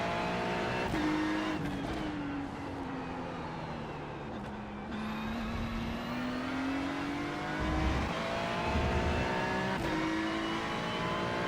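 Race car engines in the sim racing game iRacing drone steadily throughout, with rising and falling engine pitch, a brief high whine, and occasional low thumps, loud and continuous with no talking.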